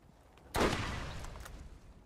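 A single loud blast erupts in a Borderlands firefight, a sudden burst that rolls out into a decaying rumble over about a second and a half.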